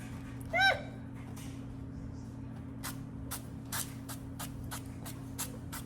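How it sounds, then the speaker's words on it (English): A series of short, sharp spritzes from a cooking spray can onto bread, about eight quick bursts spaced irregularly over a low steady hum. "I have some cooking spray here."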